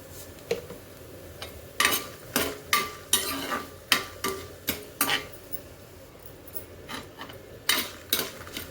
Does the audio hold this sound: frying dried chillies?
yes